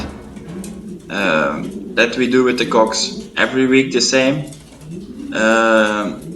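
Racing pigeons coo in a loft, soft low throaty calls under someone talking nearby, his speech dominating while the birds murmur in the background.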